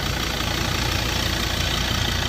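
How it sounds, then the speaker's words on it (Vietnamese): A 2016 Ford Wildtrak pickup with a 3.2-litre diesel engine idles steadily, heard close to the open engine bay as a continuous low rumble with a faint rhythmic knock and no talking. "Máy đang nổ anh em nhé"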